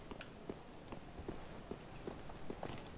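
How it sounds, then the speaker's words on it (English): Slow, regular footsteps in the dark fantasy game Dark Souls 3, about one step every half second, soft and somewhat distant over a steady background rumble. "I hear footsteps."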